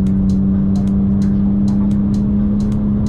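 Steady engine drone of a 2003 Mercedes C240 W203 held at constant revs while cruising, a loud continuous hum with road and wind noise throughout and faint ticking clicks above.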